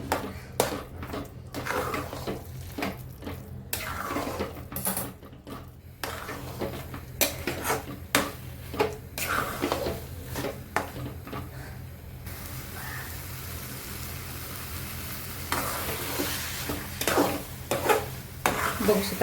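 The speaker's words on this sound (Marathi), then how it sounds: "मिक्स करून घेऊया।" A sweet potato and jaggery mixture with turmeric is stirred in a pan for sweet potato ghari, giving repeated scraping and clinking of a spoon against metal with a faint sizzle, steady and close throughout.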